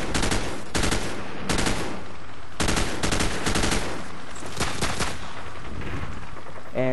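Bursts of automatic gunfire in Call of Duty 4, fired at the ground, come as several loud, closely spaced volleys separated by short pauses, with no talk over them.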